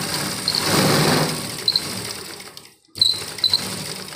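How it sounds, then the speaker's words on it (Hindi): A sewing machine stitches a seam on a suit, running in steady mechanical bursts with a short pause before it starts up again. "इसी के साथ हम दूसरी सिलाई लगा देंगे"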